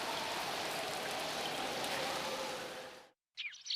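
Steady rain falls in a cartoon scene, a dense even hiss of drops for about three seconds that cuts off abruptly, followed by a brief burst of another sound.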